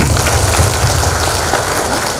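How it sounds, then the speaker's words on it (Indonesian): An indoor audience at a leadership training session claps together, a dense, loud, even patter of many hands with no voices over it. "Oke, tepuk tangan untuk kita semua."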